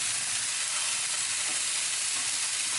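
Meatballs browning in a frying pan give off a dense, loud, continuous hiss and sizzle, close and steady throughout.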